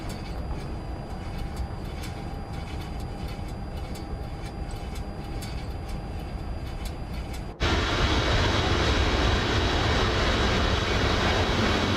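Airplane engine drone in Microsoft Flight Simulator 2024, a steady loud hum that jumps abruptly to a fuller, louder roar partway through and holds there.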